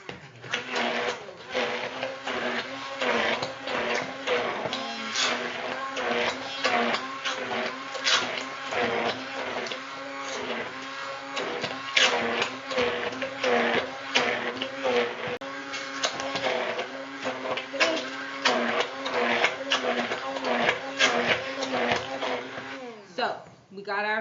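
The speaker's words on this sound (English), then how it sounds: "So, we got our butter blended nicely." A kitchen mixer beats butter for a sweet potato pie, a steady whirring hum with rapid rhythmic clatter of beaters in the bowl, running close and continuous throughout.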